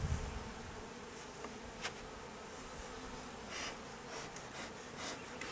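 Honey bees walking and buzzing in an opened hive during an inspection, a faint, constant hum with a few small knocks and handling sounds, no voices.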